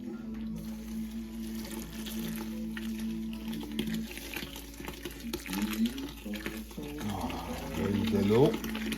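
Tap water runs steadily into the mash while a London porter is being brewed at home, a continuous splashing flow that swells louder toward the end, with people talking over it.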